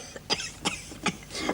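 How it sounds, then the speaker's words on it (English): Four quiet, dry coughs come in a steady series of short bursts, fairly close by, with no speech over them. "You still got that cough, you know."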